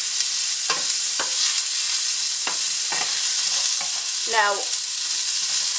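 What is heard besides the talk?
onions sizzling as they are sautéed in a pan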